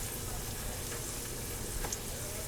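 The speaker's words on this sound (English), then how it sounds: "Just fry these up to crispy golden brown" Tortillas fry to a crisp golden brown for tostadas, a continuous close sizzle with no break and no voices.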